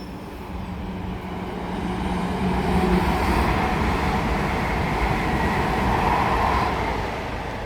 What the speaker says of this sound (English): here comes an Avanti West Coast Avero from London Euston to Liverpool Lime Street